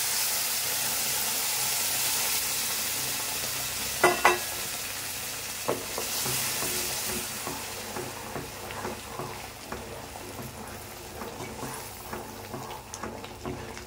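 Hot water is stirred into roasted semolina in a pan for kesari. A steady sizzling hiss and bubbling fill the clip, broken by a few sharp scraping and stirring strokes, with no talking.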